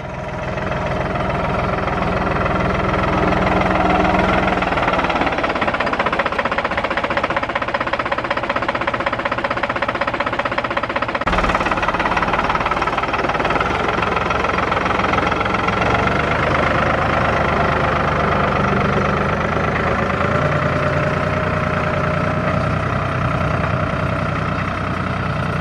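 A tractor engine runs on a cold day, a loud, continuous diesel chug with a knocking idle rhythm that holds steady for the whole stretch, with no talk.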